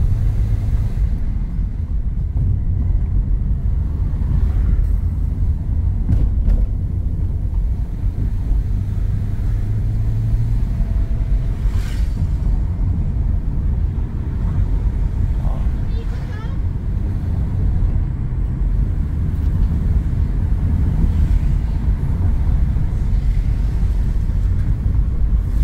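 A Hyundai Tucson climbs a steep uphill road at around 3,000 RPM and 40 km/h, its engine a steady low rumble inside the cabin beneath ongoing talk.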